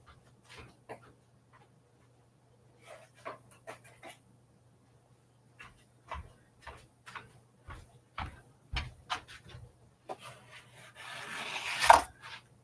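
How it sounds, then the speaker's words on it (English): A scraper rasps a gingerbread mess into a trash can, a series of short close scrapes and knocks with pauses, building to a louder rough scrape at the end. "I think I'm just going to get a scraper and scrape it into the trash because it's that disgusting."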